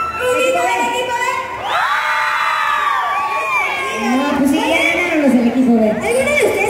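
A second team from a youth group shouts in unison, a loud crowd of young voices cheering and whooping continuously for several seconds with rising and falling pitch.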